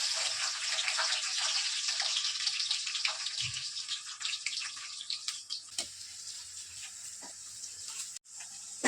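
Onions frying in hot oil for chicken biryani give a bright, continuous hiss and crackle that stays fairly loud and steady, with a few soft clinks and bumps partway through.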